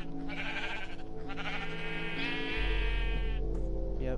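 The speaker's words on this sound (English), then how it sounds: "Go in here, spawn a bunch of sheep." Minecraft sheep give a few bleats, wavering and layered over steady game background music, with a low hum rising partway through.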